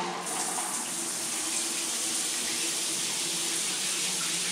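A Grohe Euphoria SmartControl shower system runs steadily, a constant hissing spray of water pouring without a break from start to finish.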